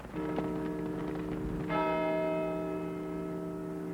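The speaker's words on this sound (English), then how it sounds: "The bells of St. Michael's are symbolic enough to serve." The church bells of St. Michael's ring out in a single clear, resonant strike that hums on and slowly fades after a dull lead-in.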